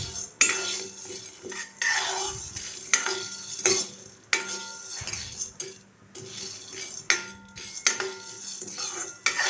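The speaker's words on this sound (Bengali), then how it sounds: "লাউটা একটু আমি নেড়ে নেব।" Bottle gourd being stirred in a pan, with repeated metallic scrapes and clinks of a spoon against the vessel over a faint, low sizzle, in a loose rhythm of strokes and pauses.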